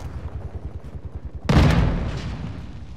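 Gunfire in Call of Duty: a loud, sudden burst erupts midway after a stretch of rapid rhythmic thumping, then rumbles and decays, with no one talking over it.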